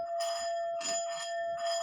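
A sound bowl struck three times, each strike blooming into a bright, sustained ringing tone with steady overtones that overlap and fade between hits, heard alone and fairly quiet.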